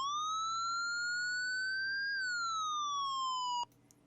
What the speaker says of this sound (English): you can hear whatever siren you're programming